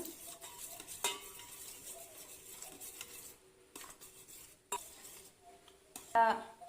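Eggs and salt are whisked in a bowl for a bread omelette, with a spoon or whisk clinking and scraping against the side in light irregular taps, several sharper knocks among them, close up and fairly quiet.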